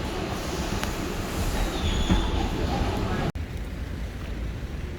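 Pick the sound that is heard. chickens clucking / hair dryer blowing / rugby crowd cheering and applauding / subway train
subway train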